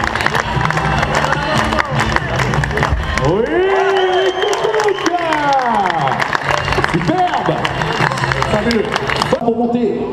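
Large crowd noise with clapping and cheering throughout, a dense, loud roar of many voices and hands, with a few tonal whoops rising above, at a 20-inch bike trials World Cup final in Albertville.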